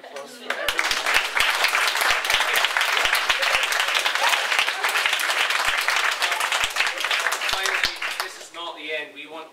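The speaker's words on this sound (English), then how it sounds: "so a big round of applause for everyone." A theatre audience bursts into sustained, dense applause at the close of a stage performance, loud and continuous for most of the stretch before tapering off near the end.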